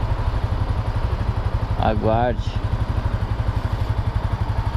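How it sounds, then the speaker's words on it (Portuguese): Motorcycle and car engines rumble steadily and loudly close by, with a brief spoken word cutting in partway through. "Carros e motos."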